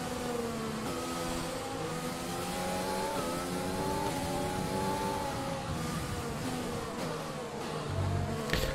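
An F1 race car engine screams at full throttle in the F1 2020 racing game, its steady high-pitched whine rising and falling through gear shifts, loud and continuous with no talk over it.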